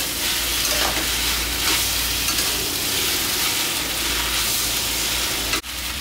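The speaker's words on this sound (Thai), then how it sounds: "ตอนนี้ผัดวุ้นเส้นของเราก็ส่งกลิ่นหอมฉุยนะครับ" Glass noodles with crispy pork stir-fry in a pan, giving a loud, steady sizzle with constant scraping and tossing throughout, close and alone, ending with a brief break near the end.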